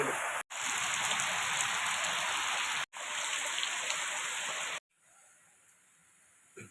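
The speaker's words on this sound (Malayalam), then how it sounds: "ഇപ്പം മഴ പെയ്യാൻ തുടങ്ങിയില്ലേ" Steady heavy rain pours down in a Kerala home setting, a dense, loud, continuous hiss broken by two brief gaps, then dropping to a much softer patter near the end.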